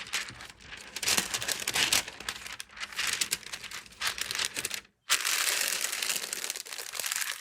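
Parchment paper is folded around bacon on a board, giving close crinkling and crumpling rustles in irregular bursts with a short pause near the middle.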